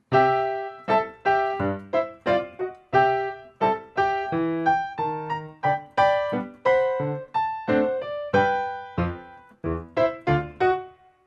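Lively ragtime piano passage from Scott Joplin's "The Entertainer", bouncy syncopated chords and melody played solo, clear and close with steady rhythmic attacks.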